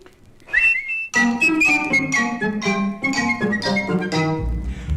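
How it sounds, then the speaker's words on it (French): A lively whistled melody opens the passage, followed by bright music with a quick, bouncy rhythm, fairly close and clear, from a Pinocchio storybook record. "tu n'auras qu'à siffler pour m'appeler"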